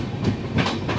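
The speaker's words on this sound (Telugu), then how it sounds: "ఇప్పుడే మన ట్రైన్ చెర్లపల్లి స్టేషన్ అయితే స్కిప్ చేసుకుంటూ వెళ్ళిపోతుంది" A Bhagyanagar Express passenger train runs on the rails as it skips a station, giving a steady rumble with a few rhythmic clacks, close and continuous, with no voices.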